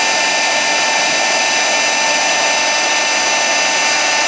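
A heat gun melts embossing powder with a constant loud, airy roar that stays steady and unbroken from start to finish.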